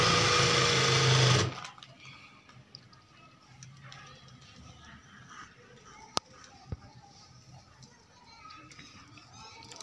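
A sewing machine runs loud and fast for about a second, tacking a chiffon dupatta pallu in place, then stops. A quiet room follows, with faint handling sounds and a single sharp click.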